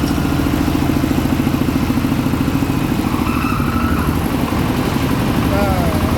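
A threshing machine engine revs, running steadily and roaring without letup, with a rattling mechanical clatter throughout.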